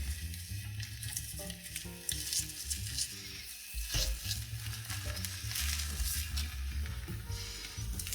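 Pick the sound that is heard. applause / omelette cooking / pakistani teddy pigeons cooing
omelette cooking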